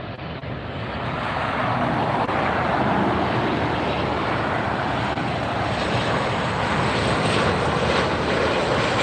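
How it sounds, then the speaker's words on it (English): A Southwest airliner arriving at LAX roars in a loud, steady jet rumble that swells over the first few seconds and then holds, broad and close, with no voices. "Here's our next arrival. Looks like a Southwest coming in."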